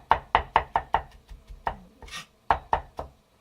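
A knife chops food on a cutting board in quick, sharp knocks, first a fast run of about five, then a few spaced strokes, close and clear with no talk.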